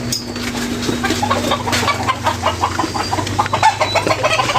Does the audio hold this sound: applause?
no